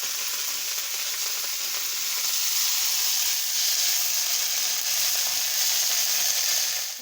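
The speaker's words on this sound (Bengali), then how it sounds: "সজনা পাতা যেগুলো আগে ধুলাম দেখো এভাবে ভেজেছি আমি" Drumstick (moringa) leaves fry in oil in a pan with a loud, steady, close hiss and sizzle that holds evenly throughout without pause.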